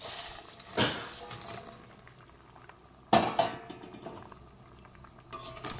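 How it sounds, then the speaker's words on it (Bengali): Fried small fish dropped into a pot of boiling water, two clattering splashes with metal knocks over a steady bubbling boil, close and moderate in level, no talking. "দেখো জলটা ভালোভাবে ফুটে উঠেছে। এবার দিয়ে দেবো ভেজে রাখা মাছ।"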